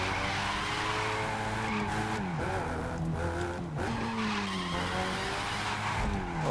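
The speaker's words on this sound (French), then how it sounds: "T'as vu comment ça part en drift" A car drifting in The Crew 2 racing game: a continuous loud tire squeal and skid wails over a revving engine, its pitch bending up and down as the slide shifts, sustained for several seconds.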